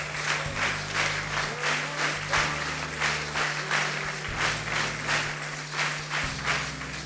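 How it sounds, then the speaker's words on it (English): An audience claps in a steady, rhythmic beat at a dedication gathering, each clap landing in a regular pulse over a low sustained musical drone. "Those of you who are clapping, if you want to clap, clap."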